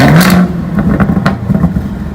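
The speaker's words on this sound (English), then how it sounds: "Alrighty, here goes the first test drive up the driveway." A rebuilt 2018 Camaro ZL1 drives up a driveway, its engine giving a loud rev at first and then settling into a rough, pulsing idle-like rumble close by.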